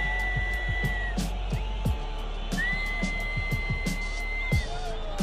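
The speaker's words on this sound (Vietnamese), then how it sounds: "Giống như đây là tiếng sáo phản đối quyết định của trọng tài" Whistles from football fans protesting a referee decision at a World Cup match between France and Tunisia: rising and falling high-pitched whistle tones repeated over a constant crowd roar with occasional thumps.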